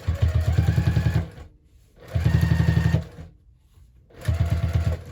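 A sewing machine top stitches along the side seam of a fabric hobo bag in three loud, close bursts of fast rhythmic stitching, each about a second long, with brief quiet pauses between them.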